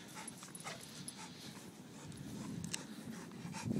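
Dogs playing in snow while searching for a ball give soft whimpers and yips, faint and close, with light panting and rustling movement that grows slightly louder toward the end.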